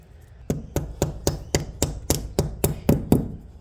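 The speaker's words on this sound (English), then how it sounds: "Then I get my chisel and my hammer." A hammer strikes a chisel in a steady rhythm, about ten sharp, close metallic taps evenly spaced against a brick wall, with no talking.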